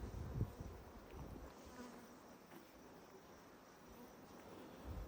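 Honeybees buzzing around an open Langstroth hive during an inspection, a steady droning hum of many insects close by, with occasional handling knocks and brief louder passes.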